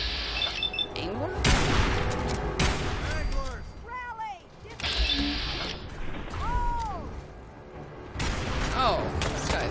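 In Fallout 4: Far Harbor, sharp bursts of gunfire crack out in irregular clusters amid a foggy firefight, mixed with whistling tonal effects, and voices speak over the shots.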